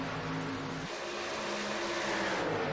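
A bunched pack of racing cars roars by in the iRacing sim racing game, engines droning with shifting pitch as they pass, loud and continuous.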